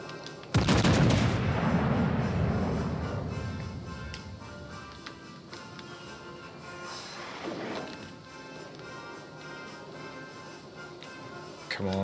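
Naval guns fire aboard a warship in World of Warships: Legends, opening with one loud, close, booming blast that rolls off over several seconds, followed by a fainter second report and a low battle rumble. Faint voices sound behind the gunfire.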